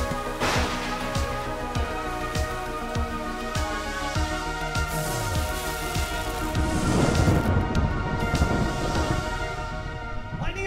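Rain and thunder from a lightning strike on a Halloween night, a loud rumbling crash swelling midway over steady rainfall, with spooky music tones running underneath.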